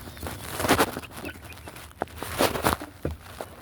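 Hens in a backyard chicken coop give soft, intermittent clucks and low calls at close range, mixed with scratching and shuffling movement, with no talking over them.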